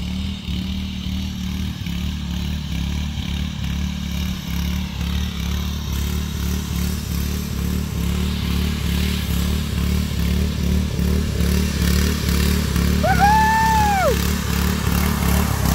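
A small tractor mower engine chugs steadily and loudly close by while driving through mud, with a low throbbing rumble and some clatter as the machine works.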